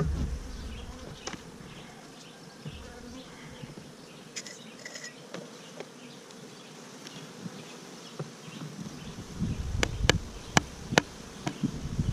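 Honey bees hum steadily around a hive during a hive inspection, a soft continuous buzz with a few louder individual bees passing close and some sharp clicks.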